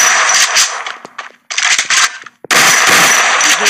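Shotgun blasts in the mobile shooter Free Fire come in three loud, close bursts of sharp shots separated by brief silent gaps.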